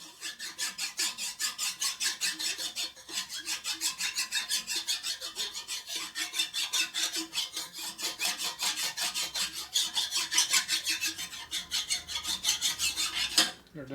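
A fine, fairly dull hand file rasping across 1947 Harley-Davidson Knucklehead EL motor case halves, steady back-and-forth strokes in a quick even rhythm, close and moderately loud with no talking.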